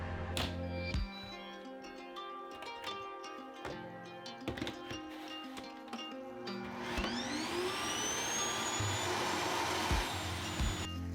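A HEPA-filtered cleaning station vacuum in a laundry room workspace, picking up sawdust: clattering and tonal mechanical noises give way to a rising whine as the motor spins up and holds a steady roar.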